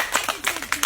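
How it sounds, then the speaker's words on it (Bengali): A small audience clapping for a quiz prize winner, a quick burst of about six sharp, close claps in under a second. "সবাই হাততালি"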